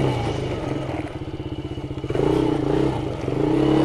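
An ATV idles and chugs slowly through mud in two-wheel drive, with a steady throbbing engine, some clattering and thudding, and a louder rise partway through, close and continuous.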